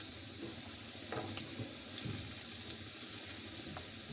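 Bitter gourd frying on a low flame in a pan, giving a steady, fairly loud sizzle with soft crackles and brief stirring or shifting sounds throughout.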